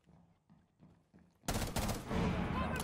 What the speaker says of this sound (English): they're shooting through there